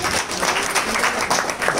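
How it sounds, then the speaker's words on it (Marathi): Audience applause at a devotional abhang singing performance in Alandi, a dense, steady wash of many hands clapping close by, sustained without a break and with faint voices underneath. "एकदा त्यांच्यासाठी टाळ्या वाजवा"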